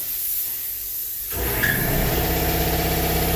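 An air compressor runs during ceramic coating work on a wheel. A low hum swells partway through into a louder, steady mechanical drone with a hiss on top. The sound is close and continuous, with no talk.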